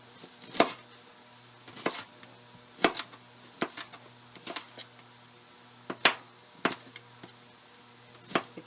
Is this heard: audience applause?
no